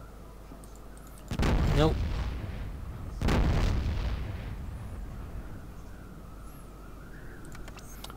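Gunfire in the Fallout Tactics: Brotherhood of Steel game comes as two heavy, booming shots a couple of seconds apart, each with a long rumbling tail, and someone says a brief word between them.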